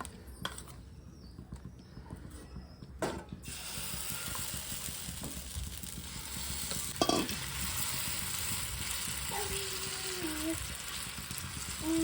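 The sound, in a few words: moong dal chila batter frying in oil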